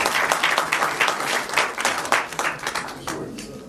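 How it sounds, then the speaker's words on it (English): Festival audience applauding a film director at a screening Q&A in a cinema, steady clapping from a moderately sized crowd filling the room for several seconds. "Merci de l'applaudir."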